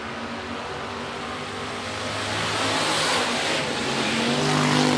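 Sportsman and hobby stock cars at Rapid Speedway roar off at the green flag, a dense engine drone that swells louder and more aggressive as the field accelerates past, with no voices.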